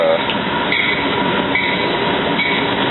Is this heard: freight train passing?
yes